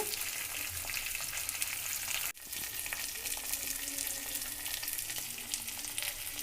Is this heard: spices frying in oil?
yes